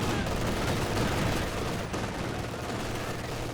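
Dense, continuous automatic gunfire from a machine gun positioned inside a building in Company of Heroes, a steady roar of rapid shots with layered battle noise throughout.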